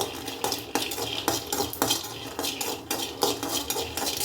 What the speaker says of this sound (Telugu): ఇప్పుడు గిన్నెలో పల్లీలు వేసుకొని వేయించుకోవాలన్నమాట.